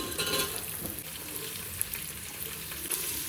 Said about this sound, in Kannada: ಈರುಳ್ಳಿ ಚೆನ್ನಾಗಿ ಗೋಲ್ಡನ್ ಕಲರ್ ಬರೋವರೆಗೂ ಫ್ರೈ ಮಾಡಿಕೊಂಡು